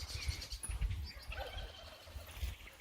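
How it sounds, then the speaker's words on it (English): Turkeys gobble in a village in early spring, faint and distant calls rising over a low rumbling background, with no voices. "You can hear turkeys."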